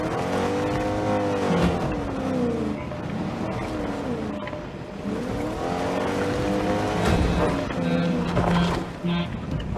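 A car in the video game Fortnite drives and revs, its engine rising and falling in sweeping pitch over about ten seconds, loud and continuous with game sound underneath.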